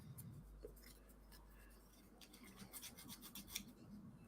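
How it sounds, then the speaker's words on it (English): A hand file rasps back and forth across a small wooden ring to clear burrs, quiet close scratchy strokes in an uneven rhythm with brief pauses and no talk. "wax and file this ring"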